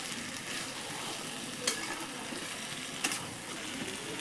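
Goat meat stir-frying in a hot pan, a dense continuous sizzle with two sharp scraping clinks of a spatula against the metal.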